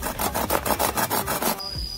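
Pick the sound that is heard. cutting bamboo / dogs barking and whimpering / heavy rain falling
cutting bamboo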